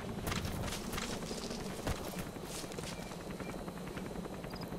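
Pequod, the helicopter from the video game Metal Gear Solid V: The Phantom Pain, arriving with a steady, loud rotor chop and engine roar that holds evenly throughout.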